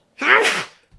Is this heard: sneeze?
yes